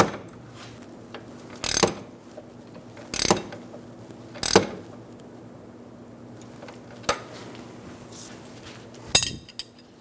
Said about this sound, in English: we're going to take our wrench and start to tighten it down using our nut